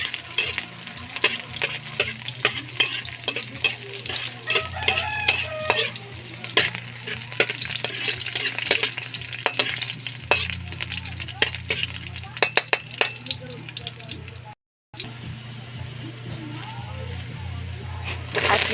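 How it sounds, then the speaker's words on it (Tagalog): Garlic and onions sizzle and get stirred in a frying pan for sayote with egg, with a steady fry hiss, scraping strokes and a few utensil clinks throughout, briefly cutting out near the end. "Tapos isunod ang bawang at sibuyas. At imekos-mekos na natin yan."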